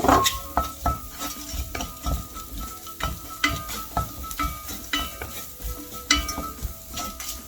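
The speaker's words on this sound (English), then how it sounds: "And the next is going to all the shallots in there. Again, medium flame." Shallots frying over a medium flame in a pan for a beef Massaman curry, sizzling under repeated scraping and clinking stirs in an uneven rhythm, with no talk.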